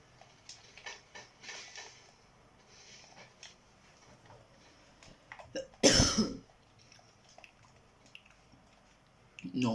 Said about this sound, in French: tout au long de la partie, vous m'entendrez tousser